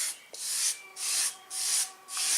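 A cloth rubbed back and forth across a painted wargame lava table surface to wipe off excess paint: four close, rhythmic scrubbing strokes with a soft, brushy hiss.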